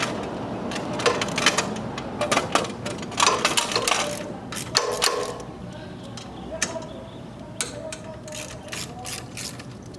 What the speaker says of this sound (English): So we're just going to loosen these 2 bolts.